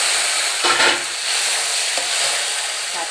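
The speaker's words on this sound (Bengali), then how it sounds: "পেঁয়াজগুলো গোল্ডেন ব্রাউন হয়ে এলে ওর মধ্যে ভেজে রাখা চিংড়ি মাছগুলো দিয়ে দিতে হবে" Fried shrimp are stirred into golden-brown onions in a pan for a shrimp and pumpkin dish, giving a loud, steady sizzle with a few scraping stirs, close up and without voices.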